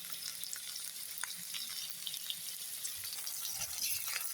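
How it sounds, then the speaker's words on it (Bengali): Potatoes fry in hot oil in a home kitchen, giving a soft, steady sizzle with faint crackles and a light stir now and then, quiet and close, with no voices. "আলুটা সেম এভাবে ভেজে নিলাম"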